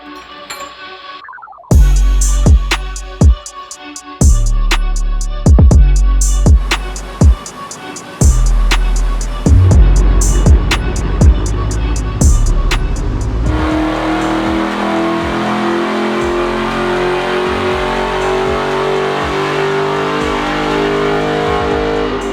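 A 1000hp widebody Dodge Hellcat Charger roars on a chassis dyno, loud close engine with sharp revving blips and bangs early, then a sustained full-throttle pull building into a dense, steady howl.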